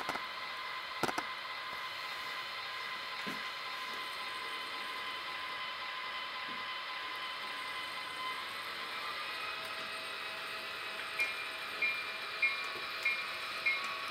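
A MTH ES44AC GE Evolution model locomotive runs with a steady, faint mechanical hum and whine, with a few light clicks and a run of small regular taps toward the end.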